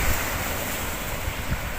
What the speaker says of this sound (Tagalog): Laki ng alon sa gitna oh.